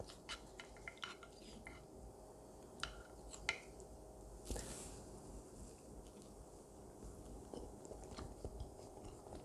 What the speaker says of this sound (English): next I'm gonna eat potato with the rice